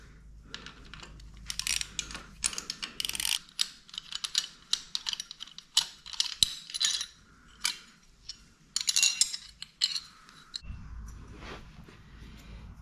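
A 14mm socket is ratcheted on a Royal Enfield Himalayan 450 while fitting engine protection. Close, irregular bursts of light metallic clicks run for about thirteen seconds, with no talking.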